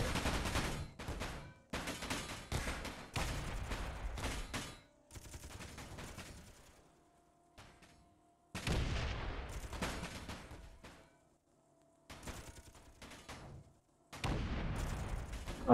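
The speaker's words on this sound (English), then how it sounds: "the missiles have opened fire on me." Missile and gunfire barrage strikes a large ship in the video game Space Engineers: loud repeated bursts of rapid explosive fire in several volleys, broken by short quieter gaps with a faint mechanical hum.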